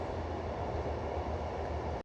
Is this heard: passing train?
yes